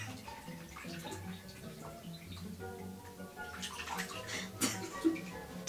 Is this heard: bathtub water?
yes